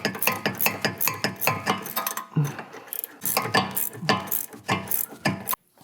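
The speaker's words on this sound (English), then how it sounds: "I just like use a ratchet-ended sockets." A ratchet with a socket tightens sway bar bolts on an Audi D4 A8/S8, with rapid loud clicking in bursts, close up and alone, with brief pauses between runs.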